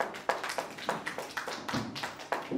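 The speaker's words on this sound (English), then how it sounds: "So give a clap." A small audience claps for paper presenters at an academic seminar, a sparse, uneven patter of a few hands with distinct individual claps, fairly quiet.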